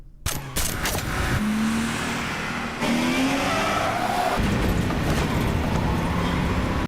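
A tiny car in a Mission: Impossible action film revs its small engine hard amid loud chase noise, with rising engine whine, tire squeals and impacts filling the whole stretch, no talk.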